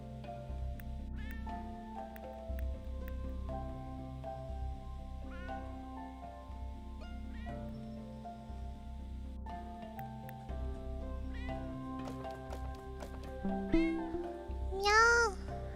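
Several cats in a snowy setting meow and caterwaul repeatedly, with drawn-out rising and falling cries scattered throughout and a louder, higher wail near the end; faint rustling underneath.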